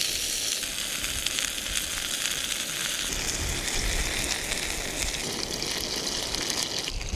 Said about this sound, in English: Look at these sausages just sizzling away.